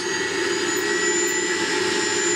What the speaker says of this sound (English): Now I'll turn the knob a little bit, so it's on 45 Hertz now. See how the drive accelerates.